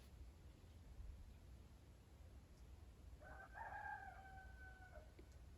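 A single faint rooster crow rings out from far away over quiet outdoor ambience.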